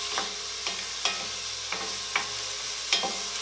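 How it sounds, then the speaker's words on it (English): Peppercorns of mixed varieties sautéing in a pan, a steady close sizzle with several light scraping stirs at irregular intervals. "And I just want to kind of saute this."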